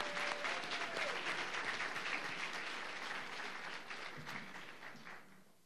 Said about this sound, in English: Could we really give them a big round of applause?